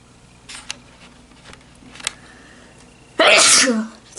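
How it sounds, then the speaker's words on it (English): One loud, close sneeze bursts out near the end after a few quiet clicks and soft rustles, with no speech around it. "Sneeze."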